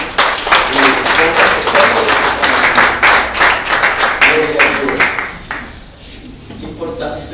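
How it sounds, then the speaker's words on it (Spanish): Loud, dense clapping from a church congregation applauding the Lord, sustained for about five seconds before thinning into scattered claps with voices underneath. "Dele ese aplauso al Señor."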